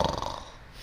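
A voice imitates a giant's snore while reading a children's story aloud: one brief, low, rasping snort that fades quickly.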